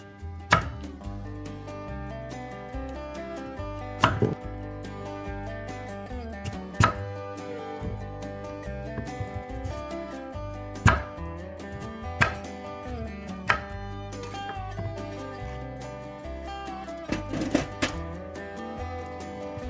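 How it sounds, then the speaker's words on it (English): Two carrots are chopped into big pieces on a cutting board, a knife landing in sharp, distinct thuds spaced a few seconds apart, close and clear with no talking. "Wash and cut 2 carrots in big pieces."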